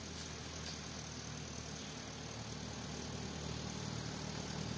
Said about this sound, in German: Oh, Traktor kommt.